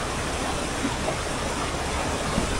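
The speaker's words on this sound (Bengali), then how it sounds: "পানিগুলো নিচে যাইতেছে।" Fast-flowing stream water rushing down beside a living root bridge in Meghalaya, a dense, continuous roar that stays loud and steady throughout.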